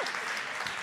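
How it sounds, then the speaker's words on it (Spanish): Brief burst of dense applause from a conference audience, many hands clapping at once in a continuous patter, fairly close and evenly loud for under a second. "Pues un aplauso para los dos maridos que están aquí"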